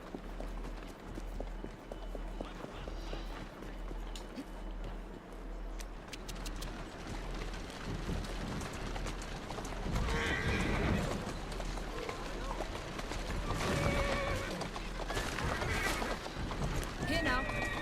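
In the video game Assassin's Creed Syndicate, rhythmic clip-clop of carriage horse hooves runs continuously, with a horse whinnying later on, loud and close, while a voice occasionally talks.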